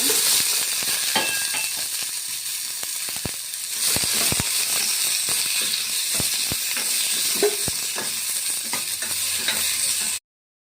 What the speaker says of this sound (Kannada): ಅದೇ ಬಾಣಲೆಯಲ್ಲೇ ನಾನು ಒಂದು ಟೊಮೊಟೊ ಹಣ್ಣು ಹಾಕಿ ಫ್ರೈ ಮಾಡ್ಕೊತೀನಿ